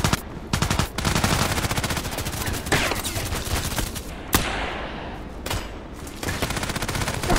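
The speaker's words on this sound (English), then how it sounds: "I can hear sniper bullets" Sniper rifle fire in the video game Call of Duty: Black Ops III sounds as loud, dense, rapid cracks filling the whole stretch, with occasional sharper single reports standing out.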